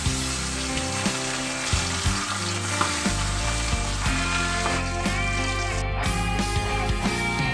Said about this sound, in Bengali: মাছটা তো রান্না করে ফেলি। কতগুলো আবার এর মধ্যে আবার বড় বড় মাছ আছে, কড়াইতে দিয়ে দিই।